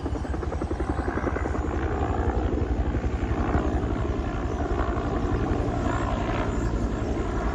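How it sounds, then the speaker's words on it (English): A heavy military helicopter flies low overhead on its way to Andrews Air Force Base, its rotors making a loud, steady, close throbbing roar that fills the whole stretch with no talk. "It's a heavy military chopper."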